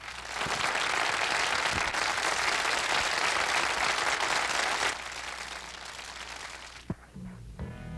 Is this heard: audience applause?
yes